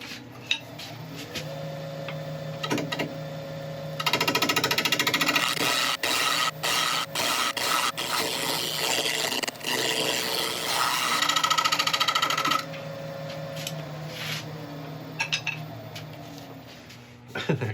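A woodturning lathe hums steadily while a gouge works a burl back-to-back bowl with the tool rest set at right angles, giving bursts of scraping, chattering cuts and sharp ticks over a constant motor tone.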